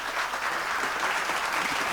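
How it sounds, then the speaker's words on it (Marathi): Audience applause for Hemant Kirloskar fills the room as a dense, even roar of many clapping hands from start to finish, with no voices over it. "हेमंत किर्लोस्करांसाठी जरा जोरदार टाळ्या"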